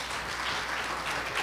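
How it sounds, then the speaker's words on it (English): Steady, even applause from an audience cheering Charlotte Brookson Academy students as they take their pledge, a dense continuous clatter of many hands at moderate distance with no voices on top. "Please give them a big round of applause as they do their pledge."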